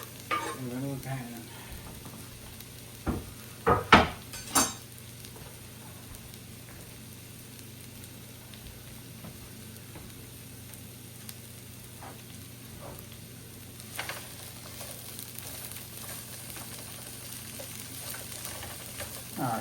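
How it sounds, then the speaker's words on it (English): Peppers and garlic sizzle in a frying pan on moderate heat, a steady faint hiss running throughout, broken early by a few sharp clanks and stirring scrapes near the start and another cluster later on. "Down the peppers and garlic into the pan."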